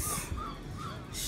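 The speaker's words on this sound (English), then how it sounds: "Shit man, them seagulls." Gulls at a beach give a couple of drawn-out calls, moderately close, over steady wind and surf noise, with no talking.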